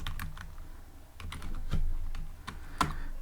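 Someone types code on a computer keyboard, a close run of quick, uneven key clicks with a couple of heavier strokes, with no talking.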